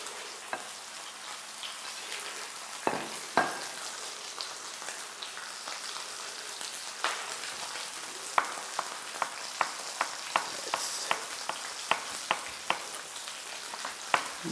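Lamb meat frying in a pan gives a steady sizzle with scattered sharp pops and crackles that grow more frequent. No one speaks.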